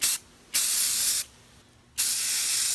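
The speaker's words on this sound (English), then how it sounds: "Spray off to the side here, make sure I've got the amount of pigment I need. And again, very light coats." Close aerosol spray paint hisses in three steady bursts separated by short pauses, laying light coats of pigment onto a Cylon Centurion helmet build, with no talking.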